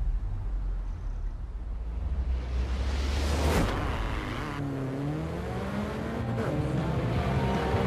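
Race car engines roar through a speed race in Forza Horizon 4, a loud continuous rumble with rising revs, gear changes and a sharp whoosh midway as cars pass closely.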